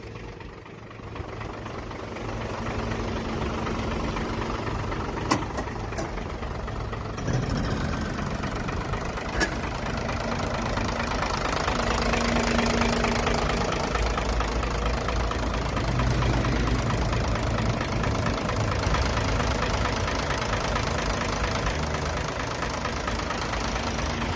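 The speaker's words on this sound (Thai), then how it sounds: "ดี๋ยวมาฟังเสียงเครื่องกันนะคะ" A 2005 Hino Mega six-wheel diesel truck engine idles steadily and close, a low rumbling knock holding even throughout with no talking.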